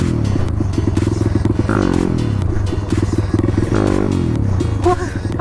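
A YCF supermotard motorcycle at wheelie practice, its close, loud engine chattering at low revs and then twice surging in sharp rising throttle blips, with a mechanical clatter beneath.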